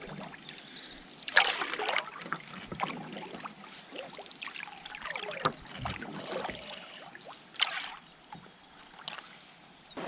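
Canoe paddling on a creek during a long solo trip in Woodland Caribou Provincial Park, with soft intermittent water strokes, drips and splashes close by in a quiet outdoor setting.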